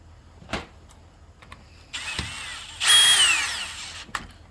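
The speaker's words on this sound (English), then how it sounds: "I'll get my screw started in there." A power drill drives a screw into the tank mount of a saw during a tank swap, with brief bursts of whining motor, the second louder and rising in pitch, separated by clicks and handling knocks.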